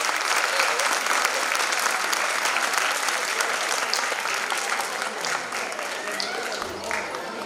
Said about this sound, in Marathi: तर जोरदार एकदा या मुलांसाठी टाळ्या होऊ द्या.